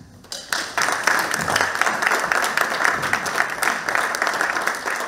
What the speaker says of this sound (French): Donc je pense que cela mérite quelques applaudissements